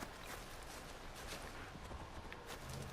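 Hoofbeats of a ridden mount in Far Cry Primal clop steadily and continuously over a dense, noisy game soundscape, at moderate loudness and without a clear break.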